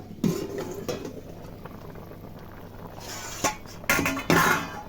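Rohu fish curry with beans and potatoes in thin gravy, boiling under a lid: a soft bubbling simmer with clinks and rattles of the lid and pot, ending in a few louder metallic knocks.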